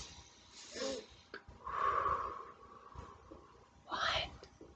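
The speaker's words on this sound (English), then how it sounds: "Great job taking 3 belly breaths." Several slow, deep belly breaths in a kindergarten lesson, each a soft airy inhale or exhale heard close and quiet, spaced a few seconds apart with a low hum beneath.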